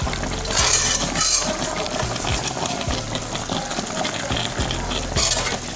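Blanched spinach stirred into a simmering smoked chicken sauce with okra powder, giving a steady close sizzle and bubbling with soft repeated scrapes of a spoon against the pot.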